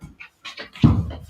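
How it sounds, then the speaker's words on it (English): A working service dog pants close to the microphone in short rhythmic breathy bursts, with one louder huffing breath partway through. "this is my service dog, and he is currently working"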